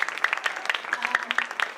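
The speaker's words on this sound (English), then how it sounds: "a round of applause too to all the teachers and the mentors and everybody that puts this together" Scattered applause at a school STEAM symposium for middle graders, a smallish audience clapping in distinct, uneven claps, briefly and not very loud.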